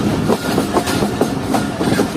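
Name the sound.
Jaffer Express passenger train passing through a station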